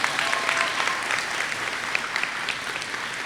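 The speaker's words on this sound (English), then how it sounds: "Give them a big round of applause." Continuous audience applause at a high school graduation ceremony, a dense and even wash of many hands clapping, fairly loud and sustained throughout with no voices on top.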